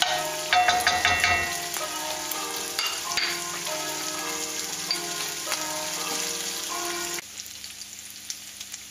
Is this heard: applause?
no